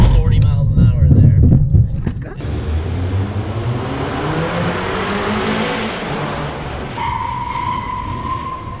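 A car accelerates hard at the New York International Auto Show, the engine note building under crowd noise and someone talking, then settling into a steady hum.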